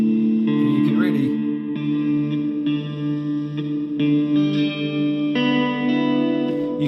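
Electric guitar played through the hall reverb on a NUX MG-100 multi-effects pedal, sustained chords ringing with a long spacious tail and a few picked changes, loud and close.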